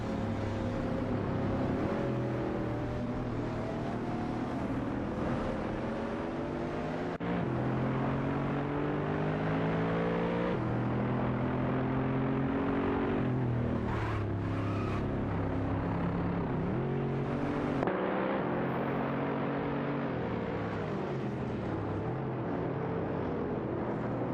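Racing car engines roar in an AI-driven video game race featuring a Honda Civic Type R and a Mercedes SLR McLaren, a dense, continuous drone of several engines whose pitch rises and shifts as cars battle in the pack.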